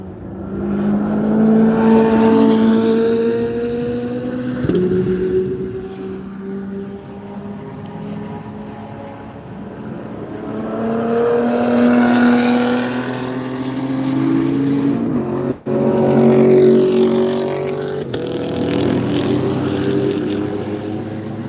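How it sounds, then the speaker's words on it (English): Race cars at Sebring International Raceway roar past in distinct waves, each engine note swelling loud and then fading, with several passes in a row and no talking. "They'll pass by in just a couple of seconds"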